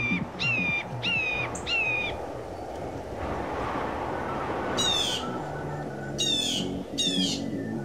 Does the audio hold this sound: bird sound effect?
yes